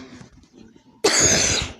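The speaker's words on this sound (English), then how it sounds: "Now let me get ready for the cough of a lifetime." A single harsh, loud cough bursts out in a baseball video game after a stretch of quiet murmuring, ringing on for most of a second.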